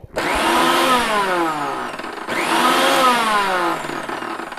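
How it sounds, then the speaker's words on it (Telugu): A mixer grinder whirs loudly while grinding chutney, running in two bursts separated by a short pause, each whine dipping in pitch as the blades load; close and alone. "నేను చట్నీని రుబ్బుతున్నాను. मैं चटनी को पीस रही हूँ."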